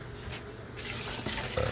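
Water runs from a tap into a cooking pot for Filipino beef shank bulalo soup, a steady rushing pour that grows fuller as the pot fills.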